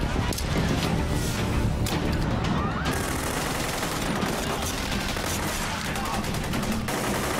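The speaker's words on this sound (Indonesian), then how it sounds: "Danny melemparkan granat asapnya agar pasukan Cina itu terlibat baku tembak dengan kelompok" Sustained gunfire during a firefight between Chinese troops and an armed group, with dense overlapping shots and bursts that run loud and continuous throughout, mixed with crashes and scattered voices.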